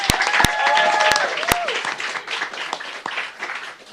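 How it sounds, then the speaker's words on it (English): Audience applause and cheering greet a middle school student team walking onstage at a student innovation competition, with a few sharp claps near the start and a steady, fairly loud clatter that slowly thins out. "Let's give them a round of applause."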